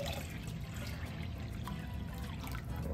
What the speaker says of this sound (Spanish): Y vamos a echar más agua para que aumente el peso.